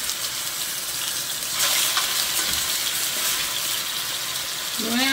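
Meat dropped into a pan of browned, caramelising sugar, giving a loud steady sizzle and hiss that swells partway through, with faint stirring noises and no talking.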